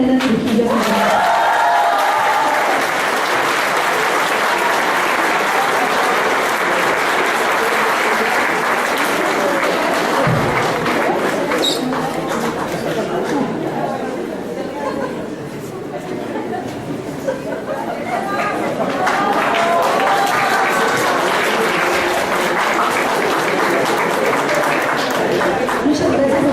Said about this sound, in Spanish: Y finalmente, un fuerte aplauso